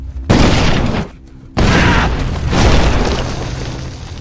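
A landmine explosion in a film scene: two massive booming blasts, the first cut off briefly before a second long roaring burst with rumbling debris, very loud and close.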